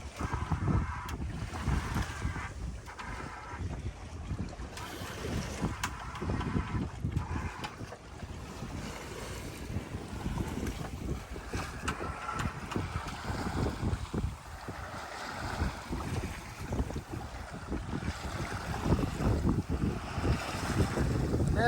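Wind gusting at the Port of Lorain on the lakeshore, a low buffeting rumble against the microphone that keeps up throughout, with faint water movement beneath.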